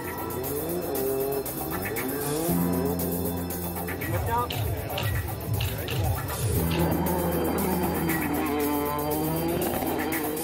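An 800-horsepower, 900 kg four-wheel-drive car is driven at a demonstration event, its engine roaring and revving with tire squeal as it passes. A commentator talks over it throughout.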